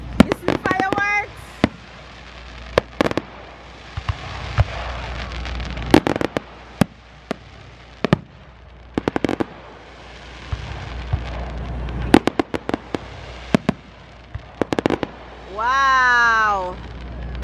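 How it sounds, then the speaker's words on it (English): Fourth of July fireworks in New Jersey burst in repeated sharp bangs and crackles over roughly a dozen seconds, some close and loud, ending with whistling rising rockets, while onlookers exclaim and talk throughout. "this fireworks going on for about 10 minutes"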